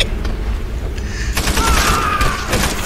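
Burst of gunfire in the video game Call of Duty: World at War, loud, continuous automatic shots overlapping into a dense fusillade with a whistling tone in the second half.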